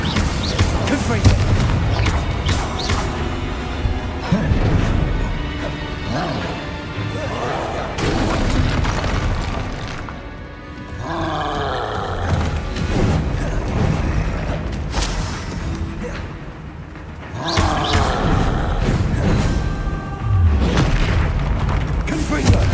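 Repeated Confringo fire-blast spell explosions in Hogwarts Legacy, heavy booms and crashes that recur throughout amid game effects, with a voice shouting spell names over them.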